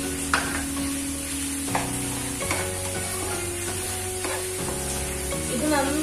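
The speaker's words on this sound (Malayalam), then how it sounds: "രണ്ടുകൂടെ ചേർത്ത ശേഷം നന്നായിട്ടൊന്ന് ഇളക്കിയെടുക്കണം" A potato mixture with chili powder and coriander leaves is stirred in a pan, with a low sizzle and a few distinct scraping strokes of a spoon, close by and without speech.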